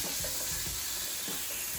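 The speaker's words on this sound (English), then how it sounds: "But you can hear that sizzle the second it hit." Tuna burger patties sizzle in a hot pan in a home kitchen, a steady, dense, loud hiss and crackle filling the whole moment with no talk over it.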